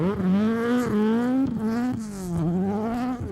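Jari Huuhka's BMW rally car on a winter rally stage in Finland, its engine revving hard up and down through quick gear changes, close and loud with no voices.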